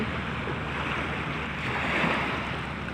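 Steady wash of surf rolling against the shore, a broad continuous roar with a slight swell near the end and some wind noise, no voices.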